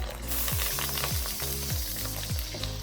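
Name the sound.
water added to sizzling kimchi spam fried rice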